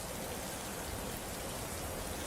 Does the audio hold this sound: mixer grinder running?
no